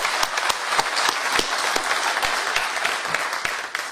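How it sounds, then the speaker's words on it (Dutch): Applause at a Dutch municipal committee meeting in Coevorden, a modest group clapping with distinct individual hand claps audible in an uneven rhythm, fairly close and steady throughout. "die heeft wel een applaus verdiend"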